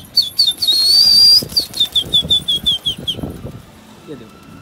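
A pigeon flaps its wings in quick, loud bursts close by during a hot-summer bird keeper's outing, the beats falling into a steady rhythm alongside a thin whistle-like tone.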